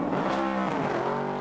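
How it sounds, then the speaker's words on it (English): An Aston Martin GTE race car at the 2017 6 Hours of COTA endurance race accelerates hard out of the pit lane, its engine note loud, harmonic and rising over a brief burst. "Off goes the Aston in hot pursuit."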